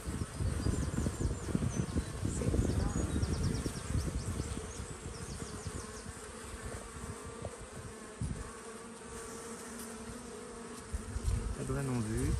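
Honeybees buzzing steadily around a beehive at the back of a garden, a dense, continuous hum up close with some light handling noise, no talking.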